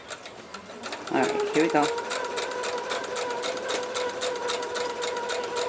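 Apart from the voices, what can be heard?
sewing machine stitching Lone Star quilt pieces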